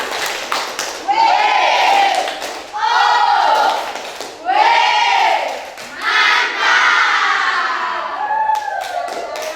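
Indonesian classroom applause for a student group, heard as a loud chorus of children chanting in rhythmic bursts with hand clapping mixed in, close and energetic, repeating in about four waves before fading.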